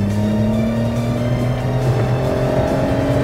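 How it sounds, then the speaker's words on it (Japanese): A Suzuki Wagon R (MH23S) engine revs hard at full throttle through an aftermarket Kakimoto muffler, a loud sustained droning roar with rising harmonics, close and steady. "まあどんなもんかマフラー音ですね、まあ今音が聞こえると思いますけどちょっとベタ踏みしてみます。"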